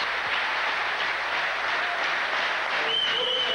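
A full-house crowd roars and cheers at a 1998 European Weightlifting Championships 85 kg session, a dense, continuous wall of noise that stays loud throughout with no letup.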